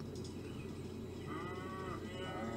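Low cattle moos from a McDonald's simulator video game rise and fall over a steady background drone, several calls blending together with no talking.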